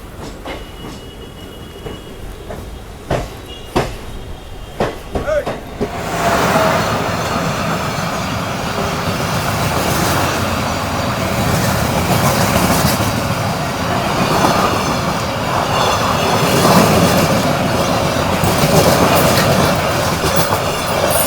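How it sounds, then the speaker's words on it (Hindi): A Clone Special express pulls out of Motihari station in Bihar, heard from inside a sleeper coach: scattered clunks give way to a loud, steady rumble and clatter of wheels on rails that builds and holds, with faint squeals. "अपनी ट्रेन का डिपार्चर हो चुका बिहार के इस चंपारण बापू धाम मोतिहारी रेलवे स्टेशन से"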